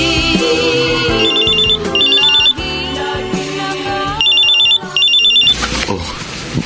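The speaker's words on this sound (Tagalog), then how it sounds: "Oh, cellphone mo, Melba." A cellphone rings with a repeating melodic ringtone, bright beeping phrases in bursts over background music, loud and close.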